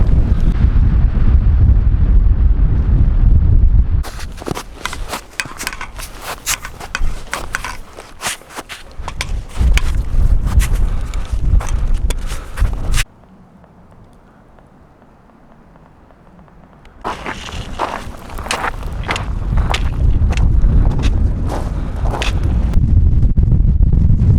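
Gusty wind roars across a high Sierra mountain pass on the Pacific Crest Trail, buffeting the microphone in loud broadband bursts, dropping briefly to a calmer lull before surging again.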